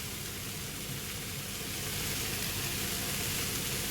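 Spring onions and mixed vegetables stir-frying for veg hakka noodles, a steady loud hiss of sizzling that swells slightly and runs unbroken with no voices.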